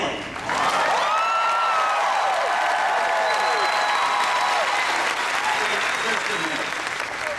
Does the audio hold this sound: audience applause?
yes